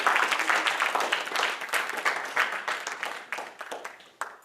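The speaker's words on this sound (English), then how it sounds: "let's give a big round of applause for all our high schoolers" An audience at a high school graduation ceremony bursts into applause, dense clapping that starts full and loud and gradually thins and fades over a few seconds.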